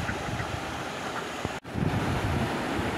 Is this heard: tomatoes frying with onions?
no